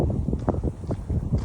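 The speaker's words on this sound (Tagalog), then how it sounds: "Sobrang hangin guys." Strong cold wind buffets the microphone outdoors in Canada, a steady low roar with gusty swells and no talking.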